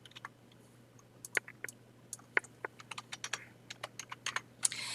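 Scattered keystrokes on a computer keyboard, irregular sharp clicks coming in short quick bursts, close and fairly quiet against a low steady hum, with no voices.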